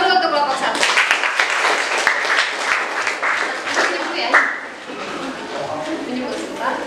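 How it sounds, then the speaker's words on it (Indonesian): Students applaud a classroom group after its presentation in a lesson study session, steady close clapping lasting several seconds while a teacher speaks over it. "Tepuk tangan dulu untuk kelompok 1."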